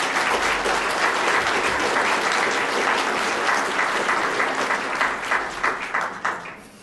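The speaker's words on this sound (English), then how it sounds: "Let's give Ann a round of applause." An audience gives sustained applause after a talk on talking to terrorists at a Good Ideas 2014 event, dense clapping from many hands that holds steady, then thins into scattered claps near the end.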